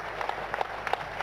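A church congregation claps during a deliverance service, a short, fairly quiet burst of scattered hand claps with a few sharper individual claps standing out.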